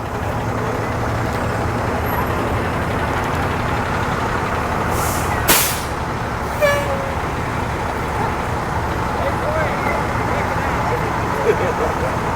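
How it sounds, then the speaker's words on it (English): Fire department trucks roll by in a Memorial Day parade in Piqua, a continuous engine rumble with a sharp air-brake hiss midway and a brief horn toot after it, heard from the roadside. "all these vehicles coming by are probably from Piqua"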